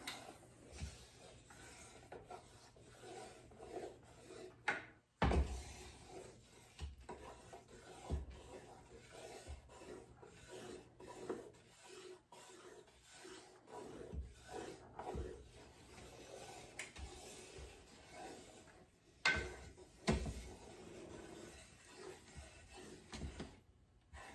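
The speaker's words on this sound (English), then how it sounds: "Scrape all the bottoms, scrape all the corners, rotate it." Utensil scraping the bottom and corners of a cooking pot while making spaghetti sauce: soft, continuous rasping and rubbing strokes at close range, irregular in rhythm, with occasional knocks and louder scrapes and no talking.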